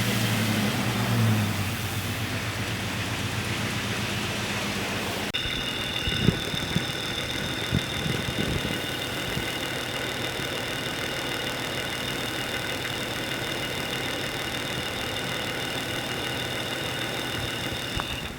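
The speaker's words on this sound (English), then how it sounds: "We'll start the engine." A six-cylinder engine, under diagnosis for a knocking noise near the timing cover, roars loudly for a few seconds, then drops into a steady, close, even idle hum that runs on alone.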